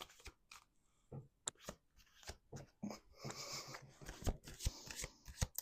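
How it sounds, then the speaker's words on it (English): Playing cards shuffled by hand on a table, producing a series of crisp riffling and snapping bursts close up, with short pauses between shuffles and a busier stretch of rapid card flutter toward the end. "All right, two more shuffles."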